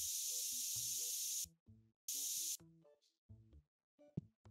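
Customer being sprayed in TCG Card Shop Simulator: two loud sustained hissing spray bursts, each lasting over a second, separated by a gap, with quiet game music plinking between and after them.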